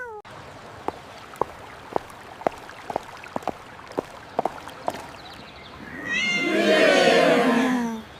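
A cat meows in a long, drawn-out wail that follows a series of sharp, scattered taps and clicks, all close and fairly loud.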